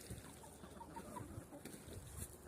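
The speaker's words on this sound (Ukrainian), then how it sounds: "Сьогодні зранку випустив курей на вулицю." Chickens, including a white bantam hen, cluck softly outdoors on snow, scattered low calls over a steady background hiss, with no voices.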